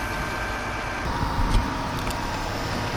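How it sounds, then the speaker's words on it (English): A concrete pump truck rumbles in at an ICF concrete floor pour site, its engine a low, steady drone with a brief swell in the middle, moderately close. "There's a pump truck."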